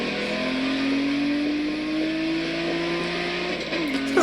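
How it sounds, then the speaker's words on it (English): A BMW-like car engine holds a steady, loud drone with a slowly rising pitch as it revs, then drops off near the end, running continuously without any talk. "Sounds like a BMW."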